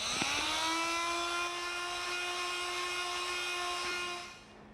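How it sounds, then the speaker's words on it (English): A detail sander works wood smooth on a pergola build, giving a steady high-pitched whine that holds loud and even for about four seconds, then winds down and fades at the end. "Now I'll just sand everything smooth using my detail sander."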